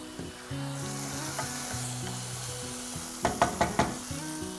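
Soy sauce hits a hot frying pan of chicken for an Indo-Chinese style kathi roll, sizzling loudly and steadily up close, then a quick run of four sharp utensil taps near the end, with no talking.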